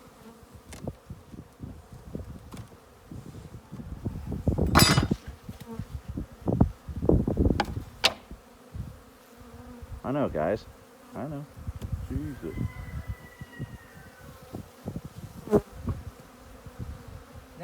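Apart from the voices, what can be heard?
honey bees swarming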